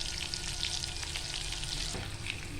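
Clams frying in a pan give off a soft, even, continuous sizzle throughout, with faint crackles and no voices.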